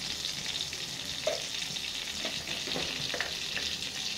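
Cumin seeds sizzling in hot butter or oil, a steady close crackle with light stirring scrapes and a few soft pops, no voices.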